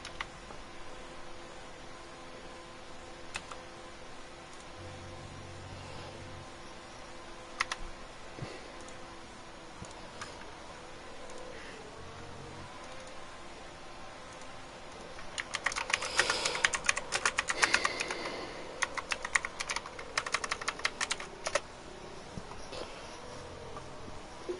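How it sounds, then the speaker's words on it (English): Computer keyboard typing during an online racing league session, steady soft clicks through most of the stretch, then a dense, loud burst of rapid keystrokes near the end, with no talking. "Sorry for the loud keyboard noises."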